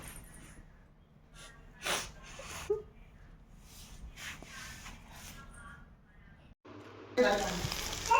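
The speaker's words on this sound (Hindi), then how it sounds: "मैं दोबारा से फिर से मूंगफली और आलू भून रही हूँ" Peanuts and potatoes roast in a pan, a soft sizzle under quiet talk and kitchen shuffling that swells into a louder, steady hiss near the end.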